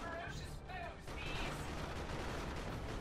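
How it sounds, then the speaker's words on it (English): Creeping artillery barrage from the real-time strategy game Dawn of War 2 Retribution, with dense low rumbling impacts rolling on continuously under faint voice fragments early on. "Creeping barrage again."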